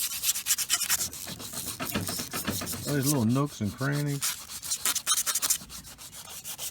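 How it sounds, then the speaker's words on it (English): Paint on a Volvo DP-C1 outdrive being sanded by hand with 120 grit sandpaper, a rapid scratchy back-and-forth rubbing close up, with someone speaking briefly over it. "This 120 grit sandpaper will etch it enough for the primer and the paint to stick."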